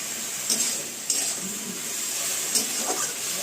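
Bottle gourd greens being sautéed with turmeric and green chilli, a steady sizzle with faint stirring scrapes at intervals, close and fairly quiet, no talking.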